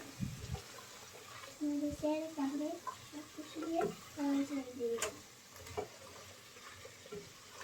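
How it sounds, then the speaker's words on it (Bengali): Mixed vegetables, some fairly firm, are stirred with spices in a frying pan for a prawn curry. A spatula scrapes in irregular strokes over a soft sizzle, under a voice as she speaks throughout. "যে সবজিগুলো একটু শক্ত সেগুলো আগে দিয়ে দিচ্ছি ভালো করে নেড়ে চেড়ে সব কিছু মিলিয়ে নেব মশলার সাথে"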